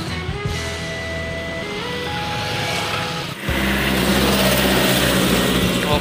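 Tour buses travelling in a convoy pass by on a road, a steady loud engine and tyre roar that swells sharply midway as a closer bus goes past, with no one talking.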